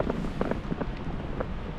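Wind gusts across a lake at Llyn Geirionydd in Snowdonia beside an inflatable kayak, a loud, steady rush buffeting the microphone on a wet day, with no one talking.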